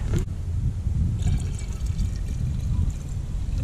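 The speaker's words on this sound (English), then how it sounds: "And then the excess soup, I'm just gonna pour it back in here." Leftover soup is poured back into a container beside a camping stove, giving a steady close trickle of liquid that runs for several seconds without talking.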